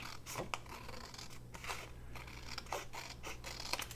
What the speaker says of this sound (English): I'm just going to trim this barcode off.